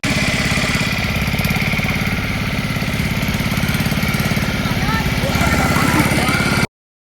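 A motorboat engine on Chilika Lake drones steadily and close for about seven seconds, with a dense, pulsing mechanical rumble that stays level throughout the ride.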